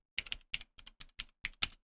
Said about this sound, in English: I'm literally typing it